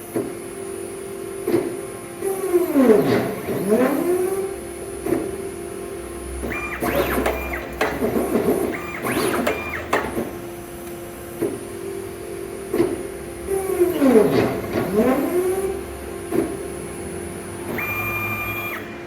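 A CNC plasma table runs a cutting job with the plasma cutter switched off, giving steady gantry motor whine with rising and falling sweeps and brief mechanical bursts, close and continuous with no talk.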